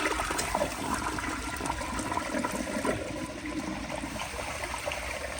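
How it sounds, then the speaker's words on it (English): An elongated Crane Plumbing Galaxy toilet flushes in a steady, full rush of water that stays loud and continuous throughout, with a gurgling, swirling wash and no voices. "I will give y'all another flush."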